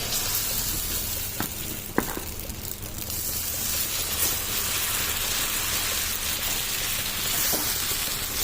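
Jonna (sorghum) dosa batter sizzles on a hot pan as a continuous crackling hiss, with a few sharp taps and scrapes near the start.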